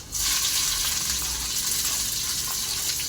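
Mustard seeds, garlic and green chillies frying in hot oil for a Kerala-style beet thoran, a steady loud sizzle with faint crackles, close and continuous with no talk.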